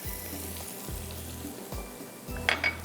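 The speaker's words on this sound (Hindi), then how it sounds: "हल्का सा ये बटर के साथ थोड़ा फ्राई हो रहा है" Butter frying with garlic and onion in a pan, a quiet steady sizzle with a low rhythmic hum pulsing underneath and a couple of light utensil clinks near the end.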